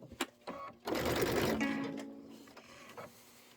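A sewing machine stitches out an embroidery pennant in a steady, loud run of rapid stitching lasting about a second and a half, with a few short isolated stitch bursts before and after.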